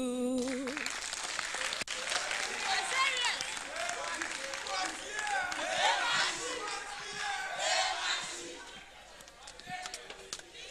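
Audience at a national investment quiz competition applauding steadily, a broad wash of clapping with scattered cheers and voices mixed in, fairly loud and continuous before tapering toward the end.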